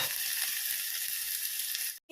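Sliced onions for capsicum thoran sizzling in a hot pan as they are stirred, a steady close hiss that cuts off abruptly at the end.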